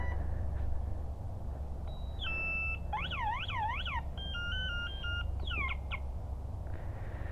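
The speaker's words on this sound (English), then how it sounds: "But when the alarm goes off" An electronic motorcycle alarm goes off, sounding a sequence of shrill warbling tones, rising and falling sweeps and steady two-tone beeps. The pattern is fairly faint and plays over a low engine or ambient rumble.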